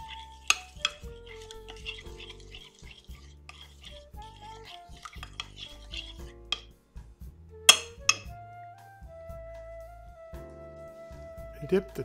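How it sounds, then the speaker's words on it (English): Icing of sugar substitute, lemon juice and milk being stirred for low-carb lemon cookies, with a few sharp spoon clinks against the bowl under steady background music. "mixing the confectioner sugar alternative, lemon juice, and milk together and stir well until it becomes a smooth mixture"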